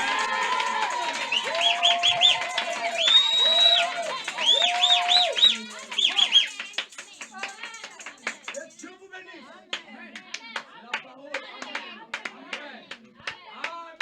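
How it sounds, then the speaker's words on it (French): A church congregation acclaims the Lord during a French-language sermon on ordination, with loud shouts and cheers giving way to scattered rhythmic clapping, and voices mixed through the crowd noise. "Est-ce que nous acclamons le Seigneur Jésus?"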